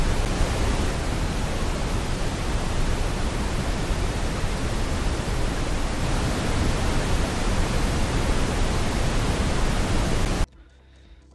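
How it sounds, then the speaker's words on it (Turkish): A steady, loud hiss of broadband noise generated in FL Studio fills the air without change for about ten seconds, then cuts off abruptly to near quiet. "Noise da şöyle bir ses aslında."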